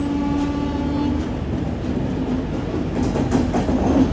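Humsafar Express pulling out of Vijayawada station, a steady close rumble of rolling carriages with faint wheel clatter and a thin tonal whine, continuous and fairly loud throughout.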